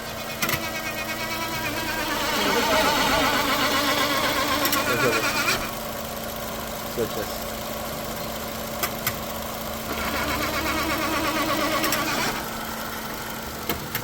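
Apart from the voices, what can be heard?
Chevrolet car engine and gearbox noise in drive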